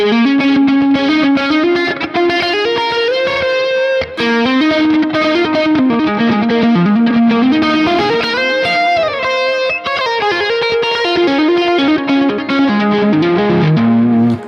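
Distorted electric guitar plays a fluid, continuous pentatonic lick, fast repicked notes flowing up and down with a liquid, slightly chorused tone, loud and alone.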